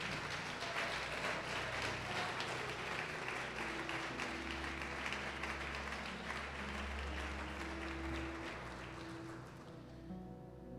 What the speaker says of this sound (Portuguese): Pode aplaudir e glorificar o Senhor.